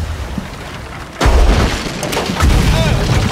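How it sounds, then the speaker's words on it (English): Ship cannons firing in a pirate video game: a sudden heavy boom breaks in, followed by more rumbling blasts and crashing debris, loud and close, with a voice faintly under the noise. "All cannons fired, sir."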